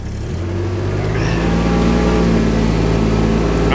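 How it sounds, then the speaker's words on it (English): A vehicle in 4-wheel drive revs up and holds a loud, steady engine drone as its wheels slip and slide in mud. "I'm in 4-wheel drive, sliding all over"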